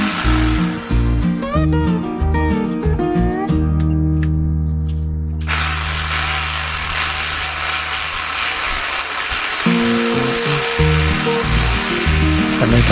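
A loud rotary hammer drill, newly restarted with grease not yet spread through it, whirs and hammers close by, its motor pitch shifting and rattling in bursts with mechanical clatter and no voices.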